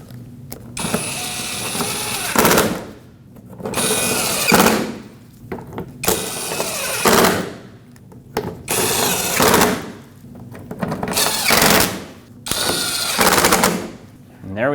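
A power tool drives in bolts on the bottom bumper panel of a Nissan Frontier, firing in six loud rattling bursts separated by short pauses.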